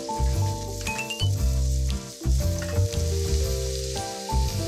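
Chopped onion and minced garlic fry in butter in a skillet over medium heat, a steady loud sizzle with bursts of crackle as the pan is stirred, a faint clink of utensil now and then, no voices.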